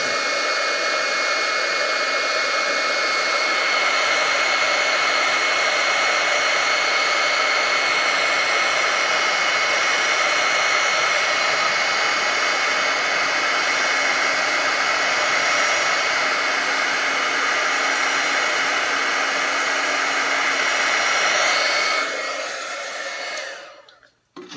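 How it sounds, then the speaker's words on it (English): A heat tool blows steadily on a rustic craft card, a loud, close, constant whirring roar of fan and rushing air that holds for about twenty seconds before switching off and winding down. "Let's bring in our heat tool."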